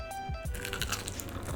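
Someone bites into crunchy, spicy Family Mart convenience-store fried chicken, close to the mic. A few quick crisp crunches come first, then moist chewing follows.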